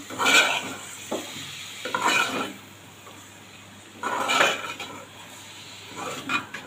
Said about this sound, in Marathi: व्यवस्थित सगळं मिक्स करून घेऊया.